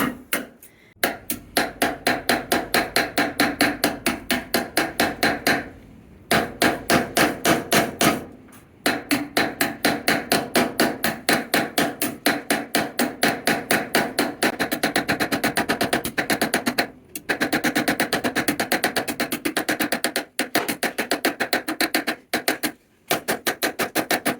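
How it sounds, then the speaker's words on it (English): A ball peen hammer strikes copper in long runs of rapid, evenly spaced metallic taps, close and loud, broken by a few brief pauses. "And then you're going to take your ball peen."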